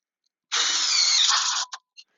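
A power drill runs one steady burst of about a second while driving a screw into a board for a rolling barge hillside staircase, followed by two short blips, with no talk.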